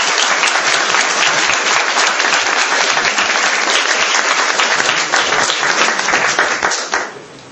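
Sustained applause from an audience welcoming two guests onto a stage, dense steady clapping that stays loud throughout before tapering off in the final moment.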